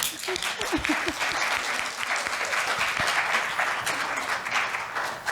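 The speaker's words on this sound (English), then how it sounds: "let's give them a round of applause" Steady, even audience applause after a science lecture at a conservation center, a moderate crowd clapping continuously at middle distance for several seconds.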